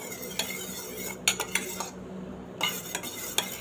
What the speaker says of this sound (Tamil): இப்போ வந்து நம்ம எக்கை வந்து மிக்ஸ் பண்ணிக்கலாம்.